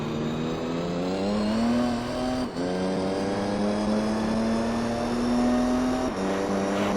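Race car engines in Gran Turismo 3, including JGTC cars, drone steadily and loudly with a rising and falling pitch, one brief dip near the middle, and no talk over them.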